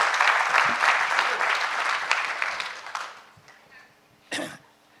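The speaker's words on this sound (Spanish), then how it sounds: "Así que pido un aplauso para Gabriel." A business forum audience in Peru applauds a panel guest, the clapping loud at first and then thinning and fading over a few seconds, followed by a single near cough in the quieter room.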